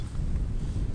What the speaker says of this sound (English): as you can hear, it is very freaking windy out here.